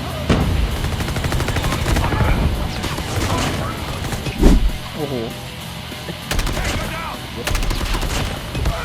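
Rapid bursts of gunfire from a shooting video game, loud and repeated in clusters with a heavy crash near the middle, over continuous excited talking.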